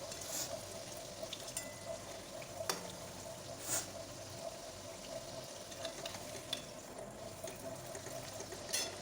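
An aloo paratha fries in hot oil in a pan, giving a soft, steady sizzle with occasional brief crackles and clicks throughout.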